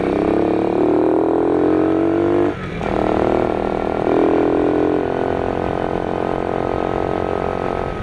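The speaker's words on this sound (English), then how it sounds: "I think I need to adjust the carburetor still. The idle's up." Motorcycle engine idling high with a carburetor out of adjustment, a loud close steady drone that dips briefly near the middle, then resumes with uneven, wavering pitch.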